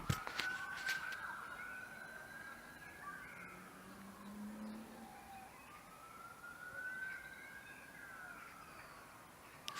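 Distant sirens wail in long, slow, rising and falling sweeps, faint and far off under an outdoor background hiss, with a few crow caws mixed in.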